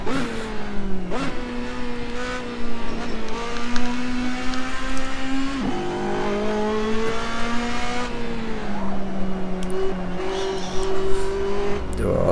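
A race car in the video game Assetto Corsa nearly spinning out, engine droning and revving with pitch rising and falling, tyre noise woven through, loud and continuous.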